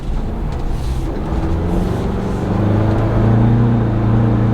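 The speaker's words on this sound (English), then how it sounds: "so we put it into sport mode. We're just going to see what it's like in sport mode." A 2022 Ford Bronco Outer Banks accelerates in sport mode. Its engine drones low and steady inside the cabin, then swells louder and deeper near the end, with no voices.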